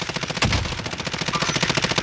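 Rapid automatic gunfire in Call of Duty: Warzone rattles in a steady burst, with one heavier shot standing out early, loud and close.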